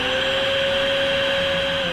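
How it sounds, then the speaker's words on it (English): A vacuum cleaner runs steadily nearby, giving a constant motor whine with a sharp tonal hum over a breathy airflow rush, heard alone. "She pulled out the vacuum cleaner."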